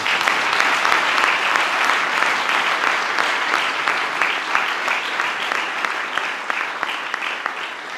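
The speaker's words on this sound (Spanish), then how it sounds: "ellos se merecen un aplauso tan grande como los que hemos hablado" Steady, full audience applause at a book presentation in Seville, honouring the photographer and illustrator, with dense clapping that holds at an even level and tapers slightly toward the end.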